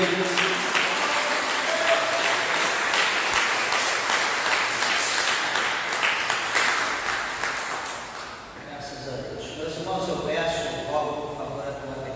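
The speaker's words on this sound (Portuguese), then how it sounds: "Desocupe vossas mãos e dê uma salva de palmas para Jesus com alegria" A church congregation gives joyful applause during a worship service. Dense, sustained clapping fills the room for several seconds, then fades as quieter voices and sounds continue.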